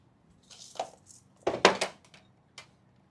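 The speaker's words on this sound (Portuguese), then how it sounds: "Podemos simplesmente ralar a cenoura e pronto." A carrot being grated on a large kitchen grater, heard as a few short, soft scraping strokes in quick bursts with clinks from the utensil, fairly close and with no talking.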